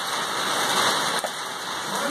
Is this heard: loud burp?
no